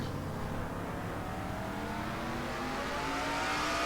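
A NASCAR-style race car engine in a racing video game revs steadily higher as it accelerates in fourth gear, a loud continuous drone with rising pitch and no talk.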